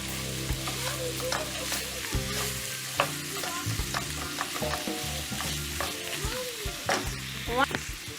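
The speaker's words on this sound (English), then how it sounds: "Add beef to pot on medium heat. Break apart with your spoon and cook until brown." Ground beef for slow cooker pumpkin chili browning in a pot over medium heat, a dense sizzle under repeated scraping and knocking of a spoon breaking up the meat, with soft background music.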